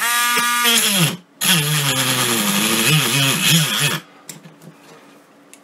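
A Harbor Freight Drill Master rotary tool, a Dremel-style tool, cutting into a piece with a loud high-pitched whine and grinding that wavers in pitch as it bites, briefly cuts out, then stops, leaving faint scraping and handling.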